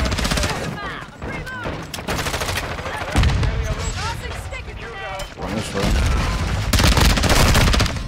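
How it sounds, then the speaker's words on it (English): Rapid automatic gunfire in the Modern Warfare 2 video game, likely from a VEL 46 submachine gun, with dense loud bursts and explosive game effects throughout, someone talking over the action. "Like, I'm shooting at two people?"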